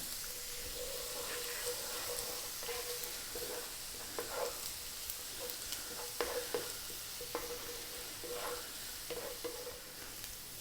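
Garlic fries in a pan over above-medium heat with a constant soft sizzle, while a utensil keeps stirring it and scrapes or taps at irregular intervals.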